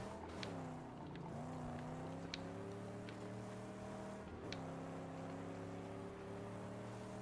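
Car accelerating in the Mad Max PC video game, a steady engine drone with rising harmonics and brief shifts in pitch, continuous and moderately loud with no talk.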